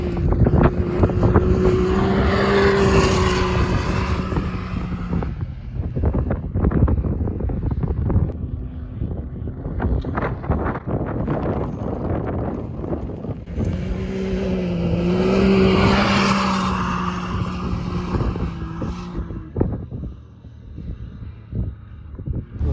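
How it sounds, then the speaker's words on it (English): A 2021 Can-Am X3 Turbo RR DS two-seat side-by-side, 64 inches wide, runs across desert sand dunes, its engine droning steadily with surges and strong wind buffeting the microphone throughout. "this is the 2021 Can-Am X3 Turbo RR DS model, 64-inch wide."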